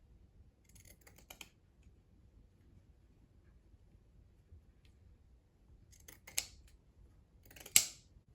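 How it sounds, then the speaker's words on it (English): Scissors snipping through the seams of scrap fabric at a desk, a few quick clusters of crisp cuts near the start and a couple of louder, sharper snips toward the end, with quiet room tone between. "I think I'm actually gonna use these scissors to cut"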